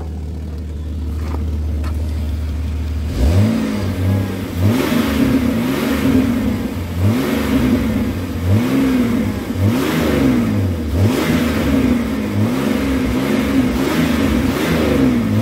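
A car engine with its O2 sensors just plugged back in, starting up and then revved repeatedly in a rising and falling rhythm, loud and close with a throaty tone, no talking.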